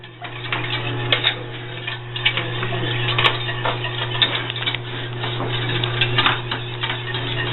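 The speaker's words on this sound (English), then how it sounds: "To save my sauce, I have to whisk the crap out of it." Whisk beating milk into a thickening macaroni and cheese sauce, a continuous fast scraping and ticking against the pan over a steady low hum, close and with no voices.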